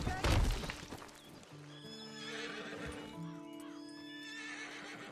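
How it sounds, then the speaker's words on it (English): A horse whinnies loudly in a long, wavering neigh, with hoof clip-clops at the start, from the Red Dead Redemption 2 game soundtrack; a voice is briefly heard. "My poor horse."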